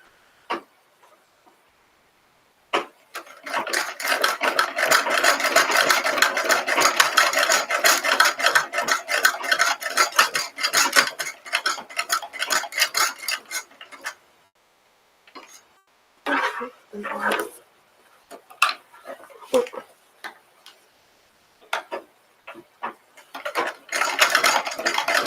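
Hand sewing a lace leaf for a chemise produces close, dry rasping pulls of thread through fabric. A long continuous stretch is followed by shorter bursts separated by silences, with no talk.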